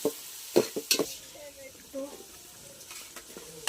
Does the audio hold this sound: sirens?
no